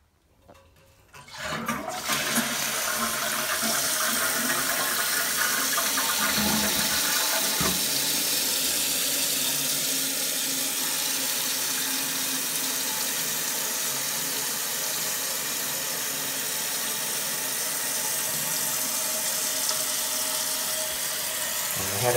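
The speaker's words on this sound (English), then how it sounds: "Let's go ahead and try to give it a little flush hush." Household toilet with a running problem, flushed and then refilling: a sudden rush of water after a quiet start, settling into a long steady hiss of the tank filling, close and continuous.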